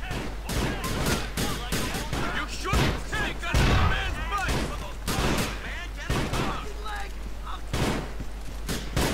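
Repeated loud blasts from a double-barrel sawed-off shotgun in Grand Theft Auto IV, several booming shots in a row mixed with game effects and dense noise.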